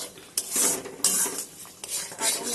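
A spoon scrapes and stirs spice paste with sugar and yogurt in a pan, making repeated close clattering strokes over a soft sizzle.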